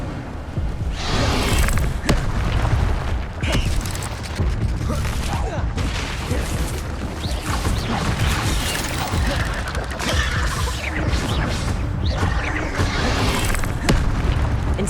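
Fiery Incendio spell blasts from Hogwarts Legacy gameplay burst out in repeated booming whooshes over rumbling game effects, with a voice calling out the spell.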